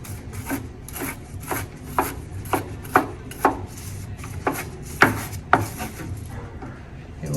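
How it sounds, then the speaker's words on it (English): Knife chopping roughly through pre-cooked scallops on a cutting board for seafood cakes, a steady run of sharp, close thuds at an even rhythm with no voices. "I'm just going to give them, again, another rough chop"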